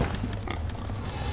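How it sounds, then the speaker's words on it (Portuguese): A pig oinking in LEGO Jurassic World: a few short, close grunting snorts over a low game background. "Olha o porco."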